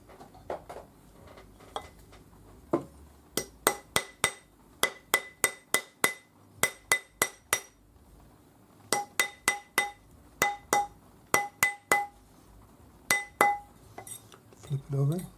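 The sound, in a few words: rawhide hammer shaping a ring on a ring mandrel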